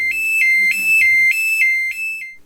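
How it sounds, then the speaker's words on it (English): A Kangaroo alarm system keypad doubling as a siren gives a loud, high-pitched electronic alarm in rapid repeating pulses, about five beeps in quick succession, close up. "The keypad also doubles as a siren, which is sufficiently loud and high-pitched."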